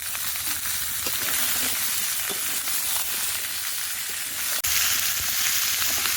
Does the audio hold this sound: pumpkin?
yes